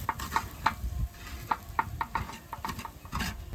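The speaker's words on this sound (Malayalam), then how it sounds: "നല്ലപോലെ ഇത് ഇളക്കി കൊടുക്കണം. കരിയാതെ ഇളക്കി കൊടുക്കണം." A spoon stirring tuna fish masala in a pan, with scraping strokes at an irregular rhythm over a soft sizzle, close and moderately quiet.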